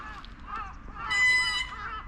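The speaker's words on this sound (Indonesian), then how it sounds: "Wah, banyak burung gagak guys di sini." Crows caw near a factory in Japan, a few harsh calls rising over a low background hum, one call louder and closer than the rest.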